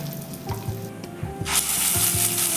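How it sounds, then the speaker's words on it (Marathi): Cumin, mustard seeds and asafoetida sizzling in hot oil, close crackling pops over a soft frying hiss that swells louder near the end. "जिरं आणि मोहरीची फोडणी देऊन घेऊ जिरं मोहरी छान तळतळलाय आहे त्यामध्येच आपण आता हिंगसुद्धा घालून घेऊ"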